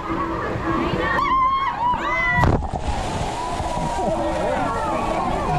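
Large water-park buckets tip and dump water, a rushing splash and slosh with outdoor crowd noise and voices talking throughout, loud and close.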